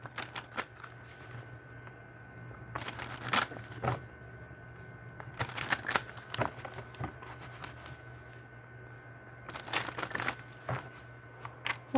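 Tarot cards being shuffled by hand, coming as three bursts of quick, crisp riffling and flapping with quiet handling noise in between, close to the listener.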